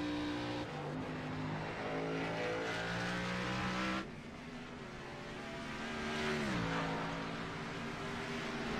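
Race cars roar through the final corner at Watkins Glen, engines holding high pitch then dropping as gears change and revving again, loud and continuous with overlapping cars.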